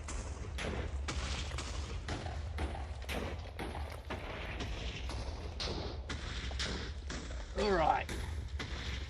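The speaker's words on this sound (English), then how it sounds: "scary to hear the explosions getting closer and closer." Repeated explosions from a carpet bomber in a Minecraft game thud again and again in a steady barrage, with a voice talking over them throughout.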